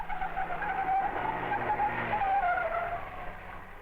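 Car tyres squeal in a sustained, wavering howl as a car corners at full lock during a 1950s premium tyre test, loud and steady with no speech.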